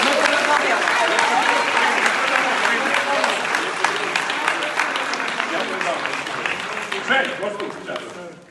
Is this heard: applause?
yes